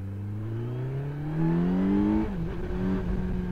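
A 2018 Kawasaki Z900 motorcycle engine accelerating, a rising whine climbing through the revs, then a shift with a brief dip before it pulls on again, close and loud with no talking.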